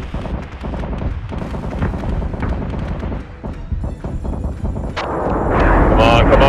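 Heavy artillery fire thunders through a Battlestar Galactica Deadlock space battle, with repeated deep booms and rumbling blasts that swell louder toward the end, mixed with game chatter.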